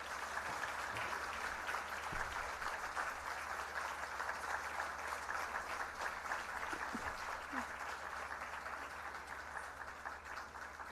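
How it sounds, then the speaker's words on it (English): An audience at a Bharata Natyam arangetram dance performance gives a round of applause, steady continuous clapping from a large crowd throughout, even and moderately distant. "Can we have a loud round of applause?"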